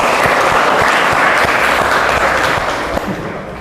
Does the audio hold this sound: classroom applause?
yes